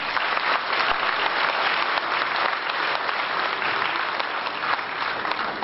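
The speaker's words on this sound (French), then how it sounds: "Je vous demande de bien vouloir les applaudir." An audience at a New Year's wishes ceremony in Vieux-Condé claps continuously, a dense, even wash of applause held at steady loudness throughout, with no talk over it.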